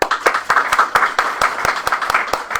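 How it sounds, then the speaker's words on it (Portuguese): A small audience at a Portuguese-language Spiritist gathering gives a short burst of applause, the individual claps distinct and rhythmic, fairly near and lively, with no speech over it. "nós gostaríamos de dar uma salva de palmas para o Luiz pela vinda dele aqui ao Canadá"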